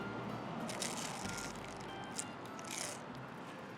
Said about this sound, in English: You can hear that crunch.